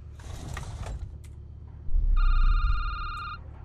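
A telephone rings with a steady electronic tone in the Security Booth video game, sounding once for about a second after a stretch of low mechanical rumble, with no talk.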